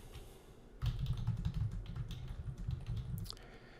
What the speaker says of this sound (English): so let's type something over here.